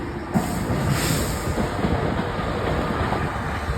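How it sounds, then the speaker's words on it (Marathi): A train rumbles past nearby in rain-soaked green countryside, a steady rolling roar with faint rhythmic clatter of wheels on track, continuous throughout. "ही बघा ट्रेन घ्यायची"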